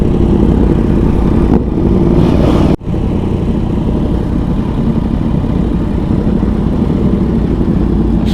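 Yamaha R1 sport motorcycle engine running steadily and loud up close, a dense continuous exhaust rumble with a brief sharp dropout near the three-second mark, no talking.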